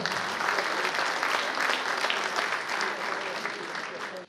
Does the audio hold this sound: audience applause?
yes